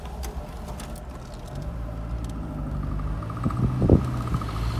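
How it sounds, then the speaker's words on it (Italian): A Fiat Panda Young 900ie from 2000 pulls away in second gear with a steady low engine rumble that builds slowly, then a brief louder strained sound appears near the end. "questo rumore lo fa quando parto in seconda"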